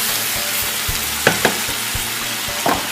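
Beef searing in a pan for Spanish estofado, a loud close continuous sizzle with a few sharp crackles and pops, and no one talking.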